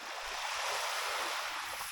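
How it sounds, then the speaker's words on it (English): Waves roll in on a beach lined with dead capelin on a hot, dry morning, a continuous broad wash of surf with steady roar and some wind on the microphone, no voices. "There's where waves are rolling in here."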